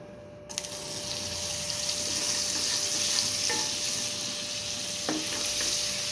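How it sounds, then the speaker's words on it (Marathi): Butter melting in a kadhai for restaurant-style palak paneer gives a steady, even sizzle and hiss that starts abruptly and carries on without a break, fairly close, with no voices. "कढईमध्ये आपण बटर घालून घ्यायचं आहे"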